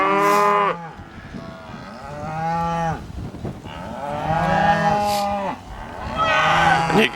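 Cattle moo several times in a row, long, loud, drawn-out calls from animals bunched close together, with short pauses between each bellow.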